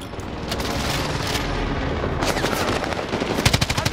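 Dense, continuous battlefield din in a military shooter video game: rapid machine-gun bursts and gunfire layered over rumbling airstrike explosions, loud and sustained, with sharper close bursts near the end.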